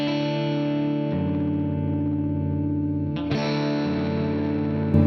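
An electric guitar rings out sustained chords through a compressor pedal with a sidechain high-pass filter, smooth and evenly leveled, with a fresh strum near the middle and no talking.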